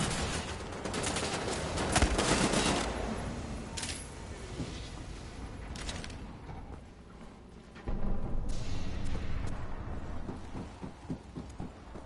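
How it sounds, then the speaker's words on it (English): Heavy cannon and gunfire blasts in the video game Wolfenstein: The New Order, booming in dense overlapping bursts with a rumbling battlefield backdrop and a sharp renewed volley near the end. "there's one more cannon further up still firing at our birds"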